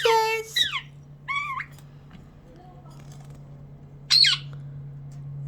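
A pet budgie makes a few short, sharp squawks and chirps in brief bursts, with a quiet stretch between them and a low steady hum beneath.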